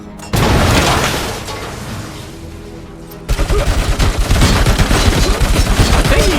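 In Robocop Rogue City, a boom is followed by a fading rumble, then an automatic turret opens up with rapid, loud, evenly spaced bursts of gunfire that keep going steadily.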